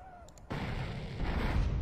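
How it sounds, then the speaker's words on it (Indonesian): Gunfire and explosions in the PC game GTA San Andreas break out suddenly after a quiet moment, then continue as a dense, rumbling barrage of booms and shots. "Tak payah pakai tank. Tembak je."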